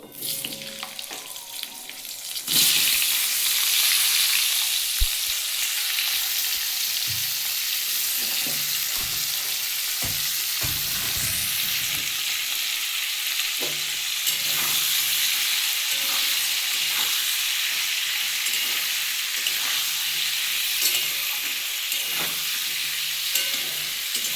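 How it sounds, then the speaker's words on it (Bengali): Potatoes, tomatoes and onions fry together with prawns and flat beans in a pan, giving a loud, steady sizzle with repeated scraping stirs close by and no talking. "আলু টমেটো পেঁয়াজ সব একসাথে তুলে দেবো"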